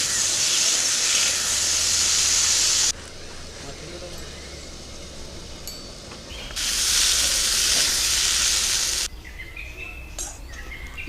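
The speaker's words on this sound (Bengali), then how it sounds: "আলুগুলো ভাজা হয়ে গেছে," Potatoes seasoned with salt and turmeric fry and sizzle in hot oil in a kadai, a steady loud hiss that cuts off, falls quieter, then swells again in bursts.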